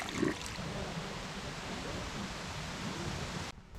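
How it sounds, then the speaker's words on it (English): Steady rain falls during a hike in Vienna, a constant even hiss close around the listener that continues without a break until it drops away abruptly near the end. "And it rains."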